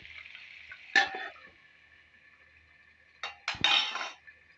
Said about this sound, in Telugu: అలాగే అలా కిందటి పైకి అలా తిప్పేసి మూత పెట్టుకోవాలండి